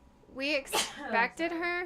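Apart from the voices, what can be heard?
sneeze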